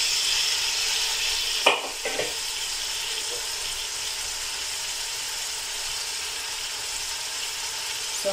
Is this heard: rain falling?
no